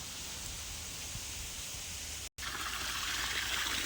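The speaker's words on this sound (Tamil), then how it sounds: "நல்லா நுர தள்ளிட்டு வருது மருந்து." Pesticide solution flows and foams out of a drip irrigation hose in a farm plot, a steady rushing, trickling water sound that continues evenly, broken only by a momentary dropout near the middle.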